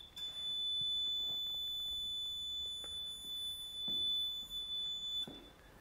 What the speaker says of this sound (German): Sie haben das Piepsen gerade schon gehört